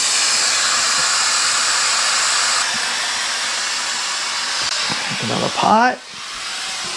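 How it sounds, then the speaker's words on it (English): Steady loud hiss of steam released manually from a pressure cooker making turkey stock, continuous for several seconds and dropping slightly in level, with someone speaking briefly near the end over it. "I'm going to release the pressure manually"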